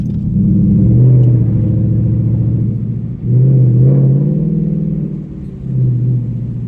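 Deep, throaty V8 rumble of a 2021 Mustang GT with Flowmaster Outlaw exhaust and X-pipe, heard from inside the moving car with windows down, swelling and easing as the throttle changes, loud and steady throughout.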